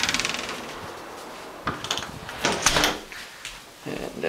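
An apartment front door is opened and shut, giving a few sharp wooden knocks and a latch clunk close by, with a brief rustle of movement in between.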